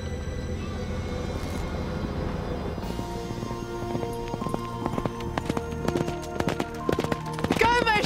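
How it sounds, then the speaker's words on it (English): A horse gallops with rhythmic clip-clopping hooves that grow louder toward the end, over a layered tonal background. "The horse."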